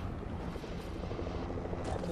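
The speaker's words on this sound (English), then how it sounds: "I have a whole ass helicopter here" A helicopter in the Fortnite video game gives off a faint, steady rotor whir, continuous and somewhat distant, with no talking.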